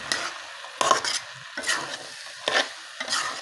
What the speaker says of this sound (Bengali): তারপর আমি যে কিছুক্ষণ নেড়ে চেড়ে একটু মিশিয়ে নিচ্ছি